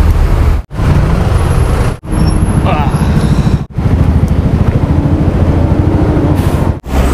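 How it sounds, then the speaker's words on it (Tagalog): Metro Manila road traffic roars close and loud as vehicles pass in a congested jam, with a continuous engine rumble broken by brief gaps and a faint tonal squeal in the background. "Bakit kaya traffic dito?"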